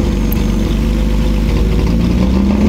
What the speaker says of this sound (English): And the idle got better as time went on. It seems to be running a bit better.